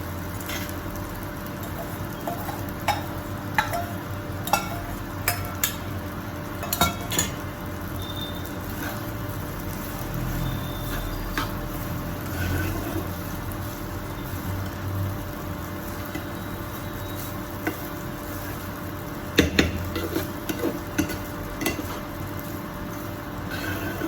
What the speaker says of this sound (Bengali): এবার এর মধ্যে এই যে আমি সবজিগুলো ভেজে রেখেছিলাম এগুলো দিয়ে দিচ্ছি